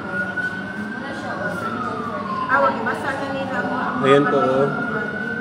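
Fire truck sirens wail at a large house fire in Cebu City, with a long rising and falling tone and several sirens overlapping as more trucks arrive, fairly loud and close, while people talk nearby.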